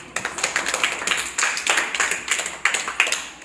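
Children in a classroom clap in a brisk, uneven burst of about a dozen sharp claps close by, with no talking over them.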